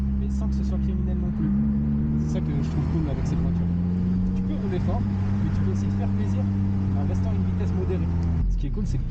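A Honda Civic Type R with its VTEC engine drives along, a sustained engine drone with gear-like tonal hum rising and holding, heard from inside the car, with someone talking over it.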